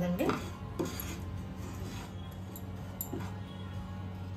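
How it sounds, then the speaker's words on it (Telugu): Semolina roasting in ghee in a pan is stirred with a metal spoon, giving soft scraping and clinking against the pan over a low background hum, close and fairly quiet, with no speech. "రవ్వను నెయ్యిలో ఏపుకోవాలి. అడుగంటకుండా కలుపుకుంటూ పడుతుందండి."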